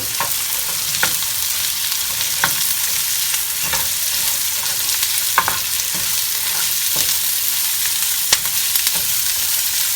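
Curry leaves and garlic sauté in hot oil in a pan, giving a steady, dense sizzle throughout with occasional faint stirring clicks and pops, with no talking.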